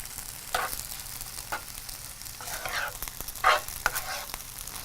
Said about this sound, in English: now that we have our spaghetti in here, we're just going to mix everything together